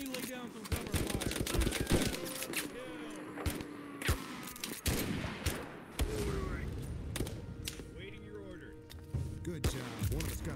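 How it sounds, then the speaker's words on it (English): Rapid bursts of automatic gunfire from the video game Mud and Blood crackle through a dense, busy mix, with voices talking over the shooting. "Let me lay down some cover fire."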